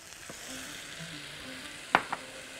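Onions, peppers and tomatoes fry in oil in a pan, giving a soft, steady low sizzle with a couple of sharp clinks near the end.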